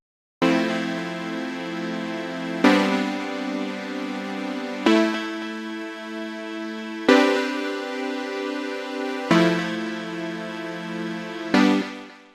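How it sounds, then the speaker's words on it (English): Synth chords from a Retrologue patch in Cubase, six sustained chords each struck cleanly and held about two seconds before changing, bright and full, with no voices. "I've got an instance of Retrolog and it's playing some chords and it sounds like this."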